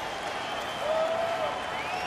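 A baseball stadium crowd cheers and applauds in a steady roar during a tense late-game moment in Houston, with a whistle-like tone rising above the noise.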